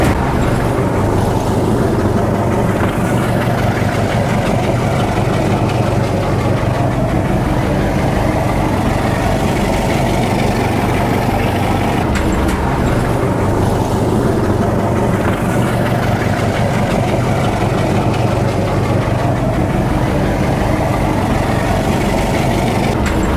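A moored boat's engine idles steadily with cooling water running from the port side, a loud continuous low rumble filling the whole stretch without pause.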